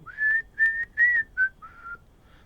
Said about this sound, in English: Love the whistling in it